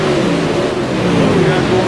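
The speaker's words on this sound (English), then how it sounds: "So we got a car revving like crazy." A car engine revs hard and continuously in a dirt track racing video game with open wheel modifieds at Oswego Speedway, a loud, dense roar that holds steady throughout.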